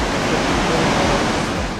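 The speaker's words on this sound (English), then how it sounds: "It feels like it's raining, but it's only the mist from the waterfall." A huge waterfall in Iceland roars as a dense, continuous rush of falling water, loud and close with no break.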